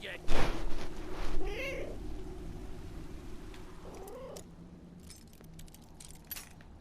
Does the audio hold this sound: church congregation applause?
no